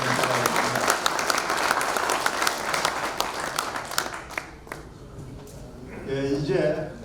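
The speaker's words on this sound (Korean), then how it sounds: "경례의 박수 드리겠습니다." Audience applause at an outdoor launch ceremony in Gwanghwamun Square, Seoul, a dense steady clapping from a crowd that thins and fades after about four seconds, followed by faint talk near the end.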